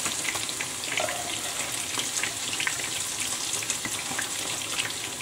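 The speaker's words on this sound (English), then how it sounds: "noodles are ready. Let's get those out. Just drain them." Cooked noodles are tipped out to drain, giving a steady close rush of water splashing into a sink or colander with gurgling, continuous throughout with no talking.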